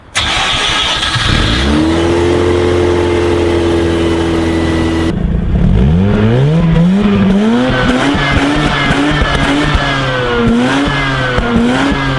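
A Mazda RX8 with its stock exhaust idles steadily, then revs up and down repeatedly with a raspy, droning exhaust note, loud and close throughout.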